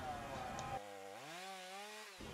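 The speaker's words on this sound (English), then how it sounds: "you can kind of see from the way he's holding his chainsaw" A chainsaw drones steadily while felling a small tree, its pitch dipping and rising as it bites through wood, heard from a short distance.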